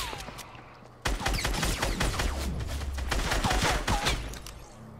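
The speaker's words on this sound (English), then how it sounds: "He shot at me first." Rapid bursts of gunfire in a Fortnite battle royale match, a dense volley of shots erupting after a brief lull and continuing loud and close with overlapping cracks throughout.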